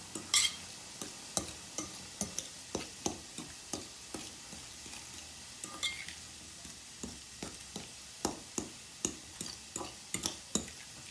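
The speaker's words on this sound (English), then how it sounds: "we're just going to stir that up until it's all incorporated" Garlic being stirred into a vegan taco filling frying in a pan, with a steady run of close, rhythmic utensil scrapes and taps over a soft sizzle.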